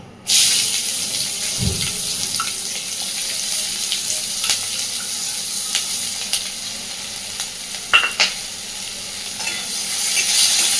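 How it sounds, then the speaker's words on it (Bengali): Chopped onion, halved green chilies and whole cumin seeds sizzle steadily in hot oil in a home kitchen, with a few scraping stirs and clinks of a spatula against the pan, close and clear, no talking. "সুন্দর করে পেঁয়াজটাকে এবার একটু ভেজে নেবো আগে"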